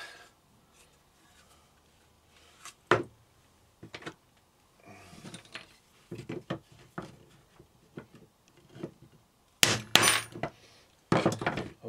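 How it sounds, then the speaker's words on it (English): A hammer knocks pieces of a homemade wooden sewing thread rack together, giving scattered sharp taps and thuds that grow louder and denser toward the end over quiet handling noise. "Okay, I did it with an hammer."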